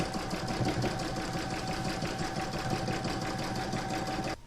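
An embroidery machine stitching fabric held in the hoop for a lined crazy-patch bag, with a steady, rapid mechanical chatter and a constant hum running close and loud until it stops abruptly near the end.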